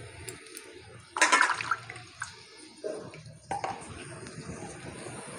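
Water poured into a cooking pan during a Bengali village kitchen preparation of banana stem and pumpkin stalks with cumin, ginger and mustard paste, a splashing burst of moderate loudness followed by a couple of shorter sizzling pours.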